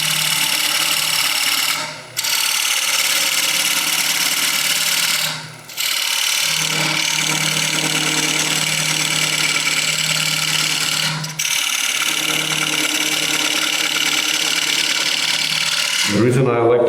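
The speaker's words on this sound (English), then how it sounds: "I like to use scraper for this instead of a gouge" A wood lathe spins steadily while a scraper cuts into side grain, producing a loud, continuous rasping whine broken by three brief pauses as the tool lifts away, then a final clunk at the end.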